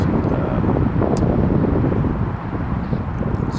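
Strong wind roars across the microphone in a steady, loud, low rumble, buffeting without pause and with no voices, at an urban street corner at sunrise.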